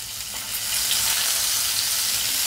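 Chana dal, ginger, green chillies, cashews and dried red chillies fry in hot oil for a coconut rice tempering, making a close, continuous crackling sizzle that swells slightly partway through.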